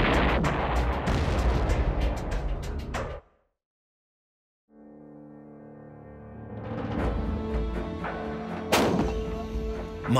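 A howitzer fires an artillery projectile: a loud, booming roar that cuts off into a brief silence, then a long rolling rumble swells back with another sharp crack near the end, heavy and close.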